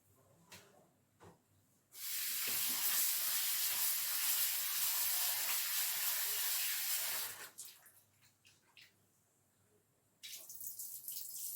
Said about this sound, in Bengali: এই যে আলুটা ধুয়ে ফেললাম